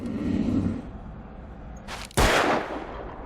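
In Alan Wake, a gunshot fires: a sharp, loud blast with a rumbling tail, preceded by a softer burst, heard alone.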